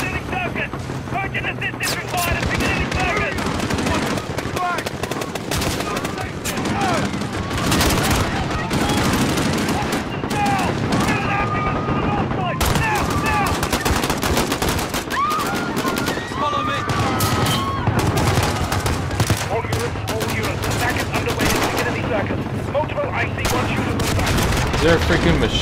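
Rapid machine gun fire rattles loudly and almost without pause through a Call of Duty: Modern Warfare firefight, with bursts layered over explosions and shouting voices.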